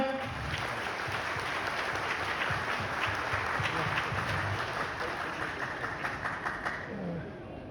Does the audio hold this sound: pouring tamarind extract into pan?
no